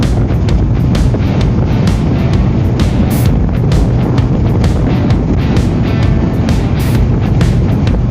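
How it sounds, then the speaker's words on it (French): Strong wind on a dam near Serre-Ponçon roars loudly and continuously against the microphone, a dense buffeting rush with no pauses. "Il y a du vent hein, sur le pont."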